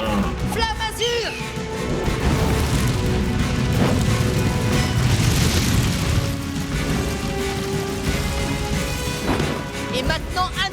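A loud, dense rumbling roar of a blue flame attack in a French children's cartoon, with crashing bursts and whooshes running under a voice calling out the move, and a few sharp tonal swoops at the start and end.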